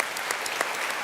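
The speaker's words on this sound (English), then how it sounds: "that deserves a round of applause, no?" A short burst of audience clapping at a Toronto tech event, a quick scattering of distinct claps over roughly a second, moderately loud and without voices.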